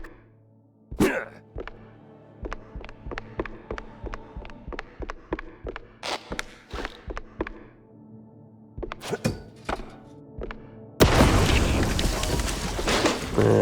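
A rapid string of sharp firecracker pops and thuds bursting inside a wooden attic in a video game, uneven bursts close and loud, ending in a dense crackling roar.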